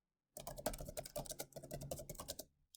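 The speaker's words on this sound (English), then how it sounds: "we can just type it right in" Rapid typing on a computer keyboard, close and steady with dense irregular keystrokes for about two seconds, no voices.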